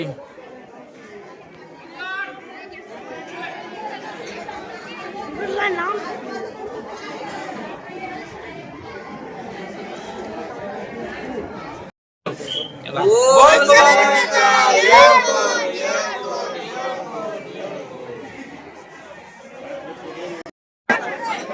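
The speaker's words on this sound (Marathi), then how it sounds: "किती गर्दी बा ना" Dense crowd of pilgrims at Jejuri fort, a continuous babble of many voices that swells into louder shouts and chanting midway, with people talking nearby throughout.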